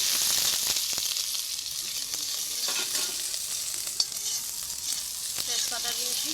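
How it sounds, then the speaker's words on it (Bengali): Chopped onion tipped into hot oil in a kadai with ginger and garlic, a steady loud sizzle and hiss of frying with occasional stirring clicks, close up and continuous. "এবার পেঁয়াজটা ঢেলে দিচ্ছি।"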